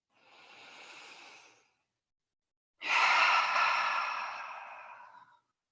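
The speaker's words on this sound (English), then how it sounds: "take one collective breath with me" A deep collective breath during a trauma-informed yoga class: a soft, airy inhale, a brief pause of silence, then a longer, louder exhale that fades out slowly.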